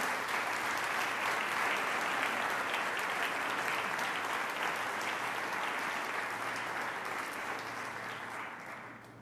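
A church congregation applauds during a Sunday service, a steady dense wash of many hands clapping at moderate distance, sustained throughout and fading slightly at the end.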